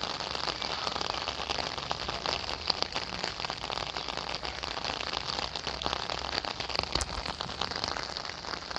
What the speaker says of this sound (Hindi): मुसलसल बारिश लगी हुई है